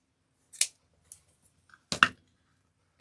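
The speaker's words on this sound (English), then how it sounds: "we're going to cut that one off." Scissors snip through ribbon while making a spring wreath: one crisp cut, a couple of faint ticks, then a louder double snip, close and clear with no talking.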